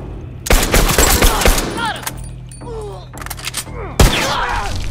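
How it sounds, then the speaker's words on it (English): Gunfire in The Last of Us Factions multiplayer: two loud dense bursts of rapid shots with a quieter stretch between them, close and sharp, with distant game effects in the gaps. "I'm getting shot in the back."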